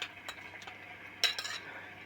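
Stirring a beaten egg mixture in a pot with oil in the bottom, heard as soft scraping strokes and a few light clinks of a utensil against the metal, close and fairly quiet.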